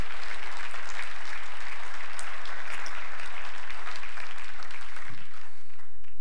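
A church congregation claps their hands together during a worship service, producing loud, sustained, fast clapping from many people that stays dense and even throughout, with no voices rising above it.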